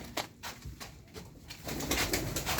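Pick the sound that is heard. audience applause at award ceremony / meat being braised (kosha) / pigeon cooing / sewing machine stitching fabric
pigeon cooing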